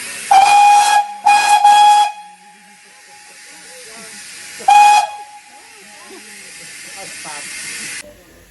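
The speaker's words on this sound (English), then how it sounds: "you can get on the train and blow the whistle" Steam whistle on a Gwili Railway train blows in three loud shrill blasts, two close together and one later, with softer hissing steam and faint background sounds between them.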